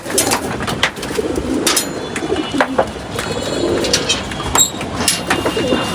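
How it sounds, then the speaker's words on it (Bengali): A male pigeon of a bowl-generation breed coos close by at home, giving soft, throaty rolling calls in a steady loop, with a few sharp clicks and rustles over the top and no talking. "এটা হলো আমার একটা বোল জেনারেশনের কবুতর"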